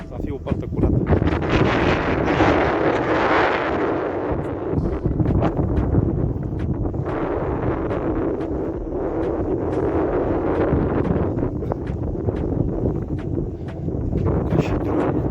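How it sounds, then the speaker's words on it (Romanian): Strong wind blows steadily across a fishing lake, a loud, broad rush buffeting the microphone throughout while someone talks over it. "bate un vânt destul de tare."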